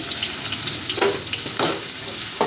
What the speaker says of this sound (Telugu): వేసి ఇలా ఆయిల్లో బాగా వేగనివ్వాలి